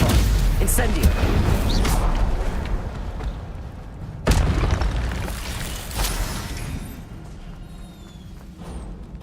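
Spell explosions in the video game Hogwarts Legacy roll out as heavy booming blasts over a dense rumbling bed, with a sharp burst midway and a fading tail while a voice talks over the action.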